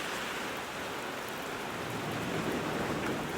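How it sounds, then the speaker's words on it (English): Rain falls steadily outdoors around a 1955 Ford F600 truck chassis, a dense even hiss of drops with no pauses and no talk. "And I'm getting rained on."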